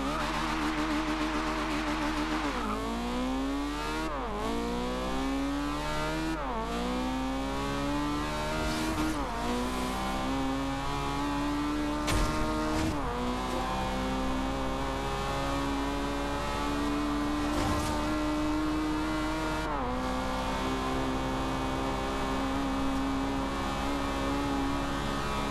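A 464hp Honda Civic sleeper accelerates hard on a high-speed run toward 200 mph. The loud engine note rises in pitch through several gear changes, each shift briefly dropping the tone, all heard from inside with constant wind and road roar.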